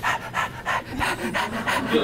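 A person imitates a corgi dog panting, with quick rhythmic breathy huffs repeated about eight times in two seconds, close and steady.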